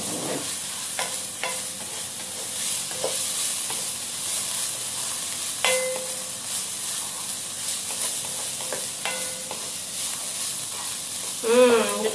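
Tuna pie filling frying in a pan, giving a constant bright sizzle and hiss with occasional spoon scrapes and taps, swelling louder near the end.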